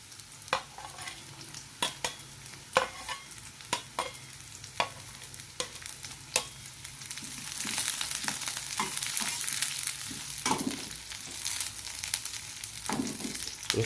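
Chilies stir-fried in a hot pan for a sautéed bitter melon dish, with sharp scraping stirs over the first half, then a steady, louder sizzle with spatula clatter, and no speech.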